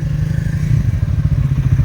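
A motorcycle with its engine running close by, a low, throbbing pulse with steady rumble and slight clatter throughout, loud and continuous with no talking.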